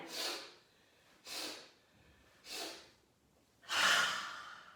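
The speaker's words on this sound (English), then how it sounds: "we're going to go through 3 rounds of breath of joy to get our bodies moving and get us all warmed up" Four forceful breaths from a breath of joy yoga exercise, each a sharp rushing burst of air separated by short pauses, the last one longer and stronger, close and alone with no talking.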